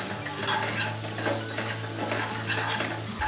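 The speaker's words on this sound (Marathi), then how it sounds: "मसाला चांगला आलं लसणाच्या पेस्टमध्ये परतून घ्यायचा आहे" Koli masala sizzling and frying in ginger-garlic paste, a dense, continuous loud crackle with steady stirring scrapes throughout, close up and with no talk.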